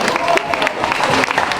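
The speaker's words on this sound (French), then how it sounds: "applaudissez très fort" An audience at a fundraising evening claps and cheers in a lively, steady burst, with voices mixed into the crowd noise.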